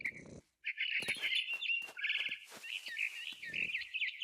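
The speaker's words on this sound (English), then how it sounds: "Then I heard chirping outside my window. It was a barn swallow going back to her nest." Barn swallow in a video game, giving a run of bright twittering chirps, continuous and clear, with brief soft noises and pauses between calls.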